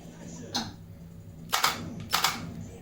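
A RetroShooter light gun fires in an arcade video game, making three crisp mechanical clacks spaced about a second apart over a quiet room hum, with no voices.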